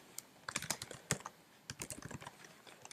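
Typing on a computer keyboard while coding an Android app, quick close clicking keystrokes in two short bursts with a pause between, crisp and fairly quiet, with no talking.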